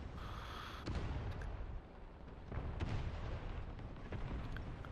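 Tank cannon fire from a Jumbo Sherman in a tank combat video game: a few dull, distant booms with rumbling impacts over a steady engine drone.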